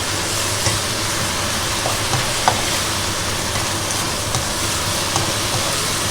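Beef stir-frying with cumin leaves in a hot wok makes a loud, steady, dense sizzle throughout, with a few faint clinks and no voices.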